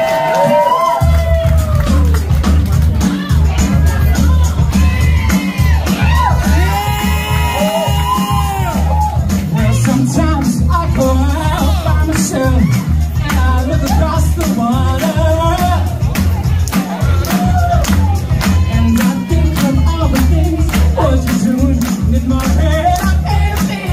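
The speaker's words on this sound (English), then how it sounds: "please give her a round of applause" A large audience cheers, whoops and shouts loudly for a performer, with a dense, continuous roar of crowd voices over booming music throughout.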